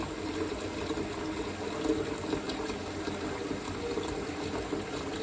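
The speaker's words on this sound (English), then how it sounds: "Filling up the pot with water for another great fall recipe." Cold tap water gushes steadily into a cooking pot in a home kitchen, a constant close rushing stream with no talking.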